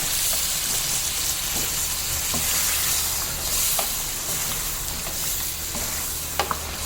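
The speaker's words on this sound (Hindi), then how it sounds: "अब इसमें दही डाल देंगे जो हमने आधा कप ली थी। अब इसको भून लेंगे।" Chicken karahi masala frying with yogurt in a pan, giving a constant loud sizzle with intermittent stirring scrapes and spoon clicks, no talking.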